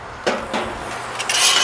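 Metal spatula scraping and clattering against a pan while chicken fried rice with soy sauce is stirred, a few distinct clanks over a steady faint sizzle, close and fairly loud with no talk.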